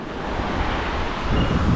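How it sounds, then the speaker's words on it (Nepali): The Madi river flows below a footbridge in a steady, broad rushing roar that stays loud throughout, with wind buffeting the microphone and a slight swell near the end. "देख्न सक्नुहुन्छ तल मादी नदी बगिरहेको अवस्था छ"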